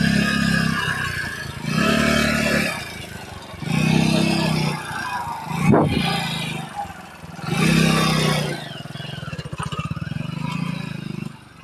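A vehicle engine revs in repeated surges on a rough farm track, rising and falling loudly in close bursts, with a sharp clatter midway.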